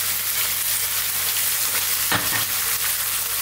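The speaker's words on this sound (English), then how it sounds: "We're browning this chicken beautifully in that ghee." Chicken pieces and chopped onions sizzle and fry in hot ghee, a steady close crackle with occasional stirring, no voices.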